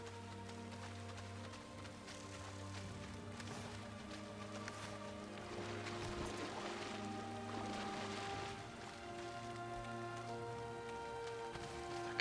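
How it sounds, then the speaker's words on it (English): Steady rain in the survival video game Valheim, a continuous even patter with a low background hum running throughout, at moderate level with no speech. "Can somebody make the rain go away?"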